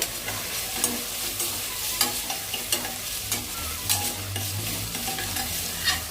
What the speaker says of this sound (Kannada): ಈರುಳ್ಳಿ, ಶುಂಠಿ, ಬೆಳ್ಳುಳ್ಳಿ, ಚಕ್ಕೆ, ಲವಂಗ ಹಾಕಿ ಫ್ರೈ ಮಾಡ್ತಾಯಿದ್ದೀನಿ